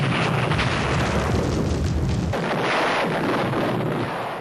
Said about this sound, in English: Also ever-present were artillery bombardments.